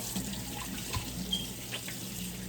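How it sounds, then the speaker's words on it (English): A kitchen tap runs steadily while hands are washed under it before cooking shrimp and broccoli, a continuous close rush of water with no voices. "I'm gonna wash my hands here."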